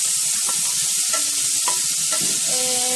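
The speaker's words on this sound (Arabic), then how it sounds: "دلوقتي انا هشوح اللحمه، وبعدين هوريكم هعمل ايه" Meat stir-fried with spices and salt sizzles loudly and steadily in a pan, with a few short scraping stirs and faint tonal squeaks. Nobody talks.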